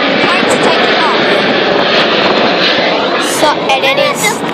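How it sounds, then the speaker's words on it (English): Airplanes take off at Sydney Airport, their jet engines producing a steady, loud roar that fills the whole stretch while people talk over it. "I'm recording some planes"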